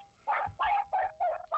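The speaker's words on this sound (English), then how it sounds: "It sounds like Bill Superfoot Wallace is being mauled by evil wild dogs." A run of five sharp, yappy dog barks in a quick, even rhythm, close and fairly loud, with a faint whine between them.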